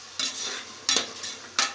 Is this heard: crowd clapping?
no